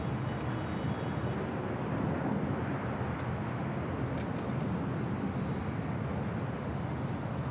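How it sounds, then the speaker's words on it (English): Delta Boeing 737-900ER jet taking off at LAX, a steady broadband engine roar that holds strong and continuous throughout, with faint wind noise mixed in and no voices. "this is Delta Airlines 2096 taking off to New Orleans"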